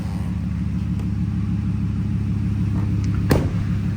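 Deep, steady engine rumble from the exhaust of an idling 2008 Ford F-150 Roush Nitemare with a supercharged 5.4-liter V8, low and continuous with a faint brief click near the end.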